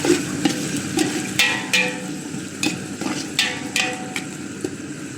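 Fish curry with onion and green chillies is stirred in a hot pan, with a steady fry sizzle under repeated scraping and knocking strokes of the spoon at an uneven rhythm.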